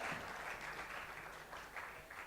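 A round of applause rises for a moderator taking the stage at a conference panel, a steady wash of clapping from an audience, fairly faint and distant throughout.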